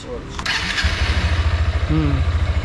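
A Honda Hornet 2.0 motorcycle starts with a quick cranking whir and catches, then settles into a close, steady, throbbing idle while people talk nearby.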